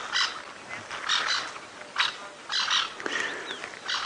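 A fairly large wild bird calls repeatedly on a sunset safari drive, giving harsh, croaking squawks in irregular bursts at moderate distance over faint outdoor ambience.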